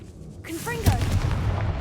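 A Confringo fire spell goes off in Hogwarts Legacy, a single sharp blast with a short booming tail that follows a brief spoken voice and settles into rumbling game noise.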